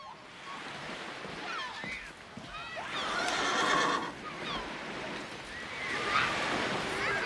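Mounted police horses whinny several times over rumbling waves and wind by the water, with faint hoof sounds and muffled voices in the background.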